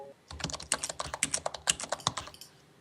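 Rapid typing on a computer keyboard, a quick irregular clatter of keystrokes heard close and fairly quiet for a couple of seconds.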